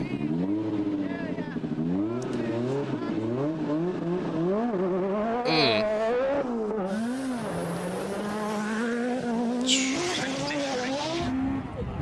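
Group B rally cars racing flat out, engine notes wailing up and down in pitch through a long stretch, with two short bursts of high tire squeal as the cars skid through corners.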